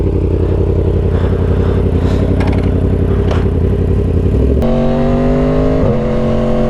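Yamaha R1 sport bike engine revving loud and close, a steady high-rpm roar that climbs, then shifts abruptly to a higher, harsher pitch before settling again, with mechanical clatter underneath.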